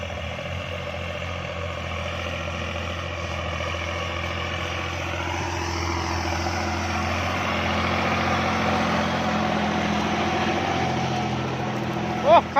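Kubota tractor engine running steadily while plowing a small, overgrown field in third gear, a continuous low drone that swells slightly midway, with a brief bump near the end.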